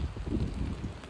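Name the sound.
rain and wind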